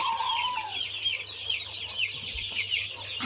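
Black Australorp chickens on a poultry farm cluck and chirp in a busy, overlapping chorus of short calls, close by over a low steady hum.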